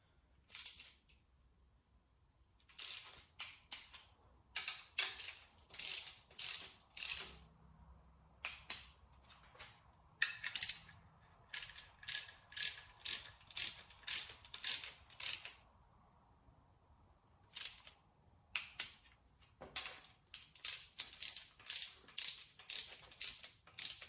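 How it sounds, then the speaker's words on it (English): An inch-pound torque wrench ratchets in quick bursts while tightening bolts on an L33 5.3L engine during assembly, with close crisp clicking runs separated by short pauses. "I have my inch-pound torque wrench, and we'll just torque them down real quick here, all 4 of them"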